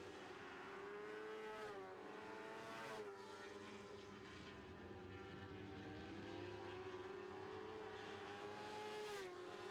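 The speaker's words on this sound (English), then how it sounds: "The 11 of DeVerkston now heading into turn number 3." Lightning sprint race cars roar around an oval track late in a feature race, a continuous loud engine drone with rising and falling pitch as cars pass, no talk.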